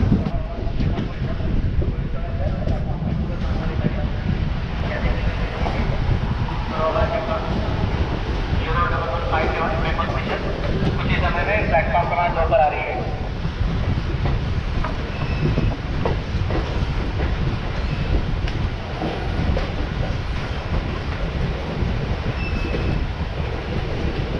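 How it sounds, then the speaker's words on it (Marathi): MEMU local train on the Diva–Roha–Chiplun line in Konkan pulling into Chiplun station, heard from inside as a steady, loud low rumble and rattle of the coaches, with people talking over it throughout. "आपली ट्रेन चिपळूणला आलेली आहे"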